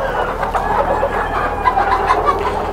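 Lohmann parent stock hens in a poultry house cluck and chatter continuously, many birds at once over a steady ventilation hum.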